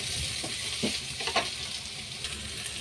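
Onions sauté in a pan for kuruma, a steady close sizzle with a few soft stirring scrapes on top and no voices.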